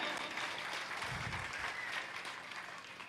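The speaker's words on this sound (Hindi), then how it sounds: "ताली बजाओ," Audience applause at a live Akhand Ramayan devotional event in a Hanuman temple, Raipur: steady dense clapping throughout, moderately loud, with a brief low rumble of voices partway through.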